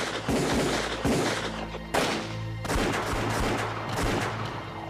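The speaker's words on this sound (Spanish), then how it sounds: "Recibimos disparos de los guerrilleros" Bursts of gunfire crack out in a firefight between Bolivian soldiers and guerrillas, several loud, overlapping volleys close by with brief gaps between them and no talk.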